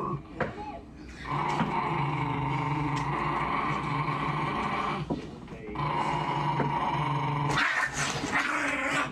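A dog growls in long, rough, sustained rumbles, pausing briefly between bouts, fairly close and loud, with a sharper burst near the end.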